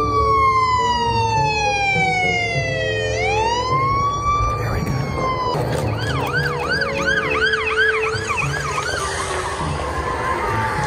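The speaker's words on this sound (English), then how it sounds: "I'm gonna put cop sirens on YouTube and roll up to the garage" Police siren sounds are played from a phone while rolling up to a garage, a loud wailing siren sweeping up and down, then switching to rapid yelping, continuous throughout over a low background rumble.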